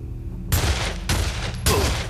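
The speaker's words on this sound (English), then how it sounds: "Where are you shooting from?" Three loud, close gunshot bursts ring out in Condemned: Criminal Origins, each a harsh broadband blast with a short ringing tail, spaced roughly half a second apart, with no speech.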